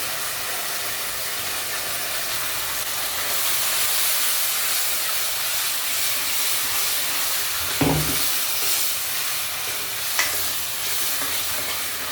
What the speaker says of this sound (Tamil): மசாலா நல்லா இதாகும். மசாலா நல்லா வதங்கணும்.